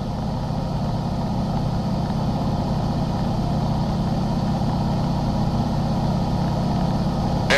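A T-6 aircraft's piston engine drones loud and steady close by as its fuel mixture is leaned, with a low, even rumble throughout.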